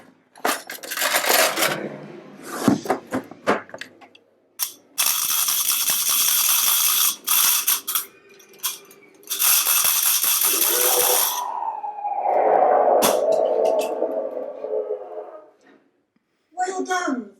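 Metallic objects such as coins, cutlery or pans are shaken and rattled to mimic a rattlesnake. The bursts are harsh, loud and noisy, broken by short pauses, with a scraping rattle in the middle and a final short shake.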